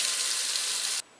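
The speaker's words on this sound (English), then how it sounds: "Next, turn some water faucets on." Water gushes steadily from opened house faucets as a well pressure tank drains, a loud, even broadband rush that cuts off abruptly near the end, leaving quiet.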